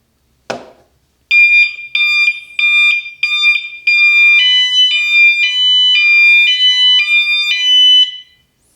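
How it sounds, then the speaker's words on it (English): A Ravemen NT101 bike taillight sounding its motion-triggered alarm, a loud, close electronic car-alarm pattern of repeated high beeping bursts followed by rapid warbling tones, after a brief click. "this will start making a loud 90s style car alarm sound as long as there's motion"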